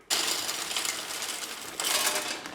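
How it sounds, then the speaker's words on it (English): Heat Beads wood pellets pour into the metal hopper of a Z Grills pellet smoker, a dense, loud rattling rush of pellets hitting metal that swells again partway through. "I love the satisfying sound of topping up my hopper"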